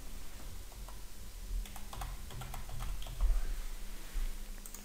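Someone types a project file name on a computer keyboard, a quiet, steady run of small key clicks at close range with no speech.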